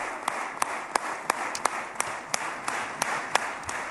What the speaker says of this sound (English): Sounds like one person's clapping.